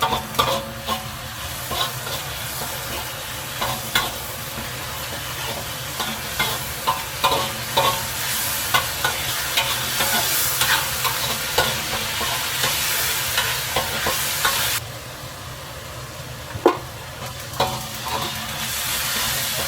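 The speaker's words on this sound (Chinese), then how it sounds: "将所有调料翻炒均匀，炒出浓郁的酸甜鱼香味。" Seasonings for a fish-fragrant sauce being stir-fried in a wok for braised eggplant, with a steady sizzle and repeated scraping and clinking of a spatula in an irregular rhythm throughout, close and fairly loud.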